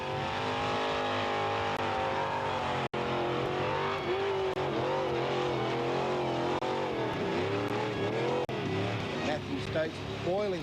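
Small-block Windsor V8 Ford Capri running on LPG revs hard at a burnout event, a loud sustained engine roar with wavering pitch and tyre noise, under a commentator talking throughout.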